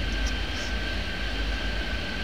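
Airliners at a busy airport in the video game Airport Madness 3D, heard as a steady, loud broadband jet engine roar with a high whine running continuously throughout, no voices.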